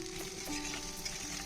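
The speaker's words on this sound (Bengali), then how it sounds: "নাড়াচাড়া করে ভেজে নিলাম।" Raw banana pieces frying in a pan while being stirred produce a soft, low sizzle with faint scraping, quiet and steady with a light background hum and no speech.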